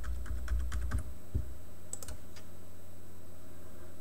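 A computer keyboard types a password to log into web tools on a Raspberry Pi. A quick, quiet burst of keystrokes comes first, then a few scattered single clicks.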